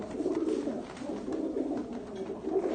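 Pigeons kept for kabootar bazi coo in low, throaty repeated rolls, close and moderately loud, pulsing steadily with no talk over them.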